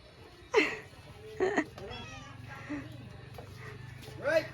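A cat gives several distinct meows at irregular intervals, close by, with people talking and laughing in a casual indoor setting.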